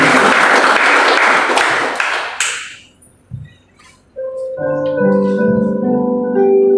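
Congregation applause at a church worship service in an apartment in Jakarta, a burst of many hands clapping that fades out after a couple of seconds, followed by quiet and then sustained music tones.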